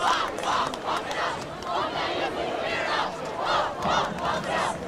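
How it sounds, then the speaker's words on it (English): Student section in the stands at a high school state final soccer match roars and chants after an early goal, a loud sustained crowd swell with rhythmic surges of shouting. "You hear the crowd getting into it now."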